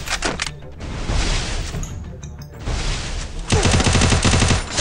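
Gunfire in the video game Free Fire, loud rapid automatic bursts and shots packed together with explosive in-game effects, continuous and close with no pauses.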